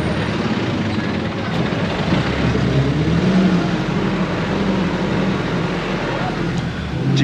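A jeepney rolls through a busy street in the Philippines, its engine drone and road rumble forming a loud, steady, unbroken wash of traffic noise.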